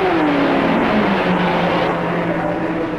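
Ford GT40 race cars at the 1966 Le Mans 24 Hours, heard as a steady, loud engine drone with a slowly falling pitch as a car runs past, continuous for the whole stretch with no voices.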